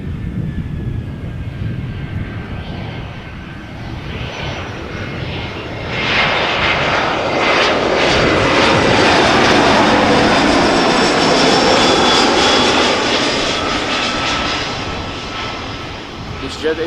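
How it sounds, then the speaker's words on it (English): An easyJet Airbus A319 arriving at Amsterdam Schiphol Airport on a summer evening gives a broad jet roar that swells around six seconds, holds loud, then eases slightly. "EasyJet A319 arriving from Copenhagen."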